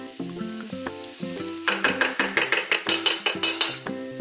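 Kimchi fried rice in a pan as sesame oil is added with the heat off, heard as soft sizzling with a tonal pattern over it, then a run of rhythmic spoon or spatula clinks against the pan.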